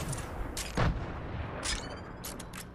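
Gunfire in a Fortnite match, season 4: several sharp shots and a heavier burst rising briefly over steady in-game background noise, fairly loud and close, with no talking.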